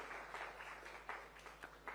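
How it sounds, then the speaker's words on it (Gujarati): An audience at a government aid distribution ceremony in Gandhinagar gives a brief round of applause. The claps come in faint, distant, uneven bursts over low background hum. "ખૂબ બધી તાળીઓ"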